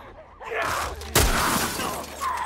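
Window glass shattering from gunshots in The Last of Us, a sudden loud crack and crash midway followed by scattering debris, with a short burst of talk beforehand.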